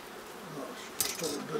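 Honeybees buzzing softly from an opened hive during spring brood work, a steady faint drone that swells briefly near the end, with no talk over it.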